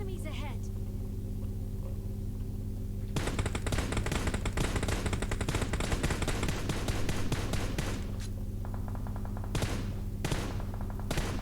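Rapid bursts of gunfire in PUBG, dense automatic volleys crackling for several seconds with a short pause before another stretch, over a steady hum while players talk.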